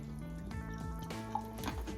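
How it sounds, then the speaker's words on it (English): Ice-cold soda from a freshly opened bottle is poured gently into a glass, making a soft, steady trickle and fill. "And you pour that into this here glass like this, nice and easy"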